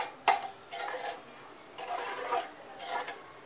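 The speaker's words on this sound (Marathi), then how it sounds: "त्याच्यामध्ये आपण आता ही डाळ टाकणार आहोत। अशी मिक्स करून घ्यायची।" Dal is stirred into a pot for a spinach dal dish, the spoon giving a few soft scraping and clinking strokes against the pot's sides, faint and close, with short pauses between them and no talk.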